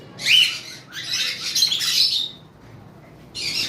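A pineapple lovebird gives shrill, scratchy chirping calls in three or four close bursts, loud and near, with short gaps between and no talking.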